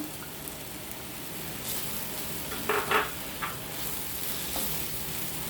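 Spices including garam masala powder, turmeric and cumin sizzling gently in a pan, a soft steady fry with a couple of brief stirring scrapes, fairly quiet and without speech.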